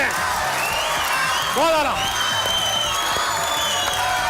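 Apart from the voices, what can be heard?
audience applause and cheering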